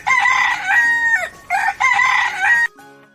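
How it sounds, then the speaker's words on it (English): A rooster crows twice in quick succession, each a loud, close, drawn-out cock-a-doodle-doo with a shrill rising and falling pitch, followed by a brief quieter trailing call. "This is a rooster."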